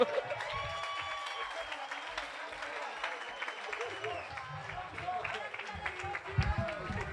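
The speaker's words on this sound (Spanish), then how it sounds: "fuerte el aplauso, por favor" A comedy show crowd claps and cheers with a dense, lively sound, while voices and other stage sounds layer over the applause and keep going throughout.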